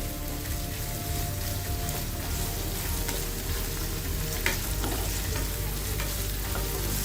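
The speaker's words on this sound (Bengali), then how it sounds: "এগুলা একটু লাল করে ভেজে নিব।" Shrimp frying in oil until reddish, a steady loud sizzle with occasional stirring scrapes running throughout, no voices.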